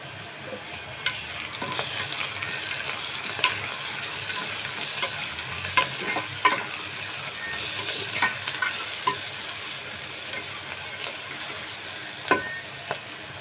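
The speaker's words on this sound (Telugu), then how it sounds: "కాస్త ఫ్రై అవ్వాలి ఇంకా ఆనియన్స్ మగ్గిపోయాయి కదండి" Onions with turmeric sizzle steadily in a pan for a dry garlic mutton curry, with repeated scraping stir strokes and light clinks over the continuous frying hiss, close and moderately loud, no talk.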